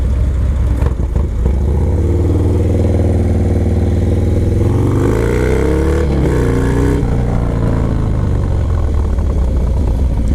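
A Harley-Davidson Dyna Low Rider S motorcycle engine rumbles steadily up close, loud and continuous, with a brief rise in revs partway through.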